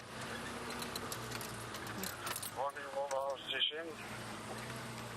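A safari vehicle's brakes squeal in a rising, wavering screech lasting about a second, then a sharp high squeak, over a steady engine rumble and outdoor bush ambience.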